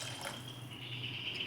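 Water from a glass pours into a kadhai during cooking of Maharashtrian matar bhat (pea rice), a steady, soft trickle and splash that continues throughout, with no talk over it.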